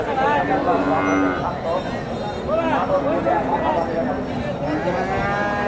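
Cattle low repeatedly, several drawn-out moos from heifers, including Friesian crosses, close by, while people talk in the background over a busy, noisy cattle market in Bogura, Bangladesh.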